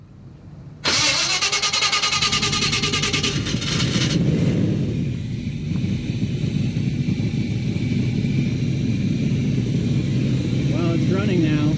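A hot rod car engine cranks briefly, then catches and roars to life, settling into a loud, rough, continuous idle up close, with people talking over it.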